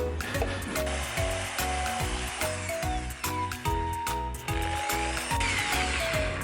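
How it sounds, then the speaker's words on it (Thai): A power drill bores three holes through a clear plastic coffee cup being made into a see-through plant pot, a steady loud whirring with repeated pulses and short breaks between holes. "เรียบร้อยครับเจาะรู3รูครับ"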